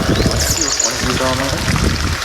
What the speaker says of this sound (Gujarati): જો આટલે બંબો પડી જાય છે, પાણીનો બંબો પડે છે